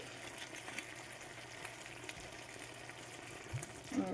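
Cooking wine added to prawns frying in a pan: a steady, faint sizzle and bubbling hiss with a few small pops, heard alone.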